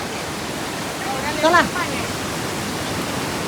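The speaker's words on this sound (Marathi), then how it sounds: "हे पाण्याचा प्रवाह जास्त जोरात आहे बरं" Strong water flow at Mandavkada waterfall, a steady broadband rush that runs through the whole clip, with a brief voice calling out in the middle.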